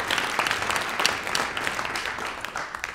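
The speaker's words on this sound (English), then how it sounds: "Give them a round of applause." Audience applause for candidates at a chamber of commerce debate in Longmont, a steady, dense wash of clapping that holds evenly from start to finish without voices.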